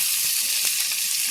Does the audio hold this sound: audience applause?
no